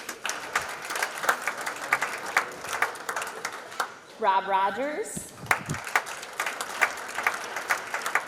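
Steady crowd applause for Hall of Fame inductees at a school ceremony, dense clapping that keeps going while an announcer briefly speaks over it partway through.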